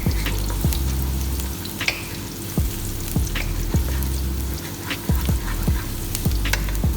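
Garlic frying in hot olive oil, a steady close sizzle with regular soft clicks and scrapes as it is stirred in the pan.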